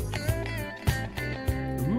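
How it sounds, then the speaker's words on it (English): Dense electric guitar playing within a busy band mix on a 1983 song, with a squealing pinch harmonic sliding upward near the end over steady drums. "I like that pinch harmonic"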